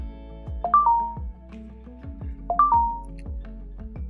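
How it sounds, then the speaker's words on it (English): A custom push notification sound plays on the iOS simulator, a short chiming melody with ticking beats that repeats twice, clear and near with no voice over it. "That displays the notification with sound."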